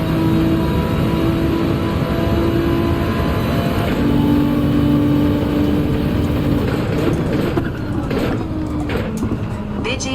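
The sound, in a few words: car engine revving in the video game Gran Turismo 7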